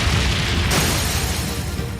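A Brionac weapon firing in Trails of Cold Steel III gives a dense, sustained booming blast over a broad roar. A sharp surge near the start is followed by a steady rumbling tail.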